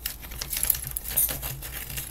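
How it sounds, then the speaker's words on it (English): Wooden popsicle sticks dropped and scattering, a quick burst of light clattering clicks and taps that patter unevenly for about two seconds, close by and fairly quiet. "Oh, I just dropped my popsicle sticks."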